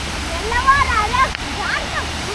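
Waterfalls along a trail on a Goa trip give a steady rushing wash of falling water, with voices speaking over the close, even roar.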